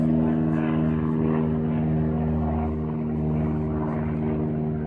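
A loud, droning propeller aircraft passes close overhead, its steady engine hum filling the whole stretch.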